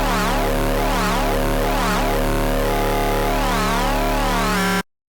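Serum synthesizer bass tone with a slowed LFO, swelling and sweeping in a steady wobble roughly every second, loud and sustained alone before cutting off abruptly near the end.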